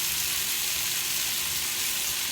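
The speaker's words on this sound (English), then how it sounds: "put me some bacon in my pan. And I'm going to get this bacon cooked up" Bacon fries in a pan with a steady, close hissing sizzle that stays even throughout, with no voices over it.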